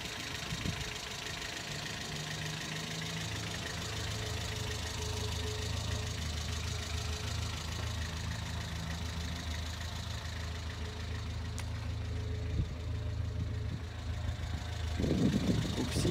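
A Renault Super 5 engine idles steadily close by, a smooth even low rumble that holds throughout with a brief louder thump near the end.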